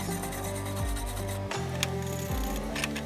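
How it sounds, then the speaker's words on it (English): A wire brush scrubs weld tacks on a stainless steel exhaust pipe in repeated back-and-forth strokes, a close scratchy rasp over a steady shop hum, with a few sharper clicks and no speech. "So we're just gonna brush all the tacks now"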